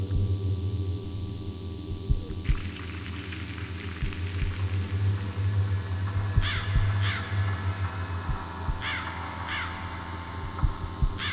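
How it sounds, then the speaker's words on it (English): Crows cawing in an eerie recording from a Tree of Crows painting in the game The Lost Crown, repeated harsh caws in spaced pairs over a droning, throbbing low hum and scattered thuds, no talking. "I hear crows."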